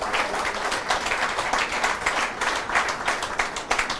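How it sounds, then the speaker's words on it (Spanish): A church congregation claps together in a dense, sustained round of applause, loud and close, with the rapid claps blending into a steady roar that pulses slightly throughout. "Dele un aplauso al Señor Jesús."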